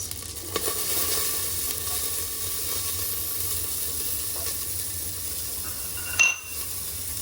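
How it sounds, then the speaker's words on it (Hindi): Chopped onions dropped into a hot pot of oil with cumin and asafoetida for a one-pot meal, giving a steady close sizzle and hiss with a short louder burst near the end. "नेक्स्ट इसके अंदर मैं डालूंगी मेरे थोड़े से प्याज।"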